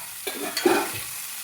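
Food fries in hot oil in a pan and is flipped over, a steady close sizzle with a brief scraping turn and a surge of crackle midway, no speech.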